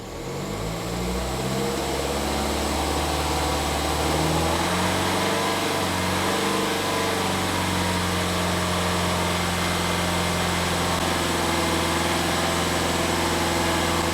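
A high-mileage diesel car engine, just back from DPF cleaning after ash clogging, rises from idle and holds a steady rev around 2,500 rpm, loud and close with a sustained drone and no talk.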